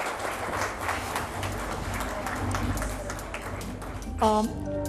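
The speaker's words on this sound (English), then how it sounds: "Let's give a warm round of applause." An audience at a tourism awards ceremony gives a warm round of applause, its scattered clapping spread through a large hall under a speaker's talk, with a brief tonal sound near the end.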